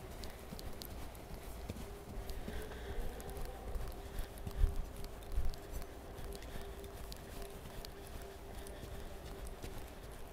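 A ridden horse walks in a riding arena during a lesson, its hooves clip-clopping at a steady, moderate pace over a constant background hum, with a couple of louder hoof strikes midway.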